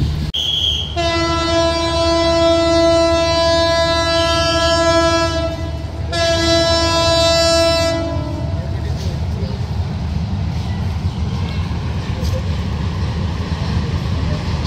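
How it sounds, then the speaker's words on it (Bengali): Paharika Express, the Chittagong-to-Sylhet passenger train, roars past nearby with two long, loud horn blasts, then a steady rumble and rattle of carriages on the rails. "সামনে যে ট্রেনটি দেখতে পাচ্ছি এটা মূলত চট্টগ্রাম থেকে ছেড়ে আসা সিলেটগামী পাহাড়িকা এক্সপ্রেস"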